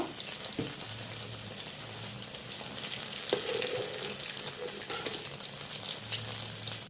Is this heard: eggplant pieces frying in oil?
yes